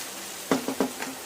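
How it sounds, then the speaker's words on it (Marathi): Onion and tomato masala sautéing in hot oil for a spicy cauliflower bhaji, with a soft sizzle broken by three or four quick, close stirring scrapes and no talk. "मस्त तेल सुटेपर्यंत आपण याला परतून घेणार आहे"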